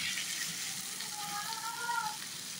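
Papaya pieces go into hot spiced oil, setting off a soft, steady sizzle and bubbling close by, with no speech over it.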